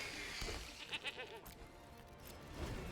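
Goat bleat sound effect from the card game MTG Arena, a short wavering bleat over dense game audio and background noise, moderately loud.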